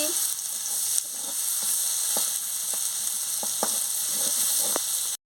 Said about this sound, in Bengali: পোস্ত বাটার জলটা দিয়ে ভালো করে আমি ভেজে নিচ্ছি কাঁচা লঙ্কা দিয়ে দিচ্ছি